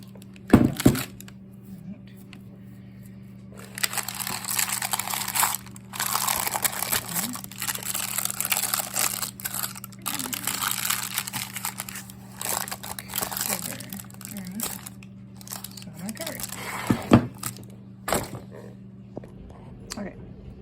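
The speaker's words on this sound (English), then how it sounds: "Okay, I covered it with plastic that I had before." Plastic wrap crinkles and crushes while being pulled over shaped sourdough bread dough in a home kitchen, a busy rustling spread across most of the stretch with a few thunks, fairly close and steady.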